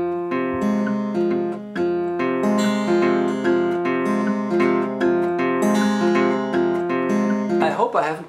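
A blues slide guitar plays a repeating bass-note pattern in a lesson, with clear sustained plucked notes in a steady rhythm, close and alone, ending in a brief sliding flourish.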